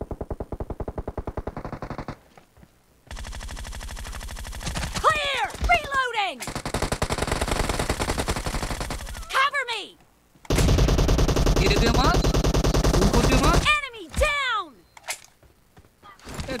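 M4 rifle fire in a shooter video game crackles in long, loud automatic bursts, broken by short pauses and shell or ricochet whines, with a player speaking over the shooting.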